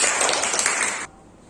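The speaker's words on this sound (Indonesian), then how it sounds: "Tepuk tangan dulu." A classroom of students gives a short, bright round of hand clapping that cuts off abruptly after about a second, leaving quiet room tone.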